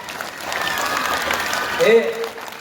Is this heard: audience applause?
yes